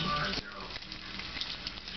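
A thick piece of food is laid in the hot center of a pan and starts to fry, giving a steady close sizzle with a voice talking over it.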